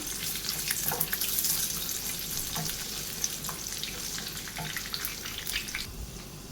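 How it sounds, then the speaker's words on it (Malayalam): Dry fruits roast in a pan while being stirred, a close, fairly quiet crackling sizzle with soft scraping strokes that fades toward the end, no speech. "ഇനി ഇത് നമുക്കൊന്ന് ഇളക്കി മൂപ്പിച്ചെടുക്കാം."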